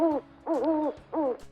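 An owl hoots three times in a slow, even rhythm, each call clear, close and wavering in pitch, with nothing else underneath.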